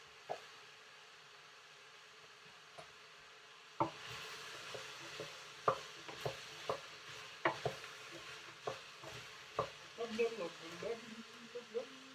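Sweet potatoes tipped into a pot for homemade soup, starting a soft sizzle with scattered clinks and stirring taps, fairly close and quiet.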